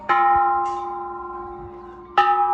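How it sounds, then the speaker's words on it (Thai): A bell at a Thai temple rings out twice as it is struck for a blessing. Each clear, resonant strike is followed by a long ringing decay, heard close and alone. "ระฆังขอพรนะครับผม"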